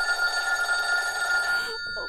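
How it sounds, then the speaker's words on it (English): An old-style telephone bell rings continuously with a bright metallic trill, then cuts off abruptly. "Stop ringing me, do you hear?"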